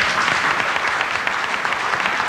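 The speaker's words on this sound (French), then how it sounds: "La lettre de Du Bois, bruyamment applaudie par une large partie de l'assistance" Loud, dense applause from a large congress audience, many hands clapping in a continuous, even roar with no voices over it.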